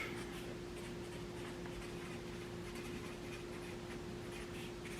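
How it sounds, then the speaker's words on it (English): A pen writing on paper makes a faint, continuous scratching over a low steady hum, with no talking. "I'm going to write it down, okay?"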